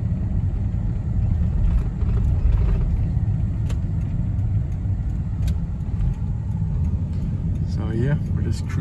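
A Mercedes ML63 AMG with the M156 engine cruises through downtown streets, giving a steady low engine rumble and road noise throughout, with a voice talking over it.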